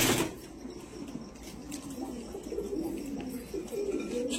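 Andhra pigeons cooing close by in a steady low murmur, soft repeated coos running continuously with faint background rustle and no talk.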